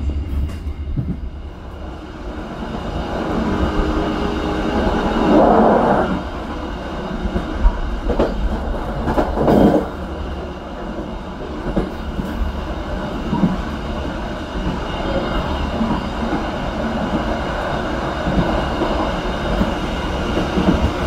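Onboard the KA Motis passenger train in Indonesia, a continuous rumbling ride with rhythmic wheel clatter, occasional louder thumps and surges, and faint squeals over the steady roll.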